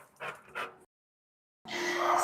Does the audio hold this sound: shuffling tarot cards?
no